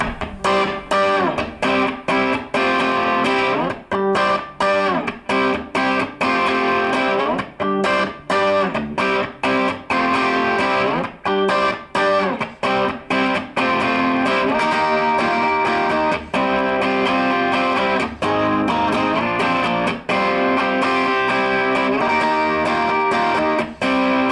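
A distorted electric guitar churns out a choppy intro riff with sharp, rhythmic stops between chords, loud and close throughout.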